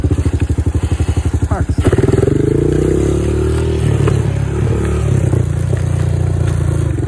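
A motorcycle engine chugs in a rapid low pulsing beat, then holds a steady rumbling drone as it is ridden home in low gear, loud and close with some rattling clatter.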